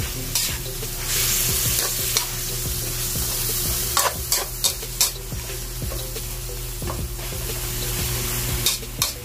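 Chayote and chicken sautéing with garlic and tomato in a pan, a steady loud sizzle broken by repeated scraping strokes of a utensil stirring, with no talking.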